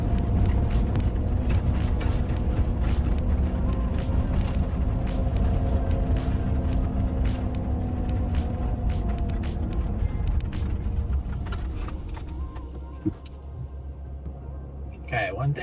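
A van drives at night on a road, its engine and tyres giving a steady low rumble that fades toward the end, with someone talking over it.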